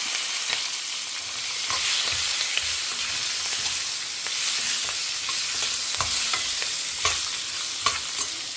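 Chopped capsicum frying in hot oil tempering with fenugreek and asafoetida for a Tamil kalyana sambar, a loud continuous sizzle with repeated stirring scrapes throughout.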